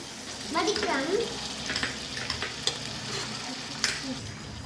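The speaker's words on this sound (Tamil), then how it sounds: "வேக வச்ச மட்டனை இதோட சேர்த்துக்கிறோம்" Boiled mutton going into a pan of fried onions, tomatoes and green chilli: a steady close sizzle with stirring and scraping throughout, and a voice speaking briefly beneath it.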